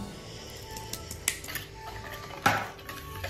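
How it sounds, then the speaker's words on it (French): Flour being stirred into a chocolate cake batter in a bowl: soft scraping with two sharp clinks of the utensil against the bowl, close and alone. "Et on mélange jusqu'à ce qu'il n'y ait plus de farine."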